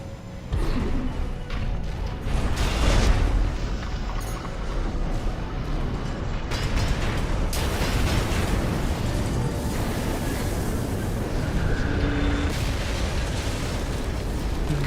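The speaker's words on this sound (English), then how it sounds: "Glorious explosions." Loud, dense rumbling of explosions in Armored Core VI: Fires of Rubicon, a continuous roar with repeated booming bursts and crashes throughout.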